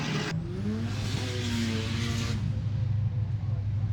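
Cars circling the track at Queensland Powercruise, a steady engine drone with rising and falling revs from a pass, loud and continuous, with crowd or talk faintly beneath.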